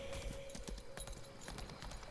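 Faint hoofbeats of a horse in the video game Lost Ark clip-clop in a quick, uneven rhythm over a low background hum, with a soft steady tone running underneath.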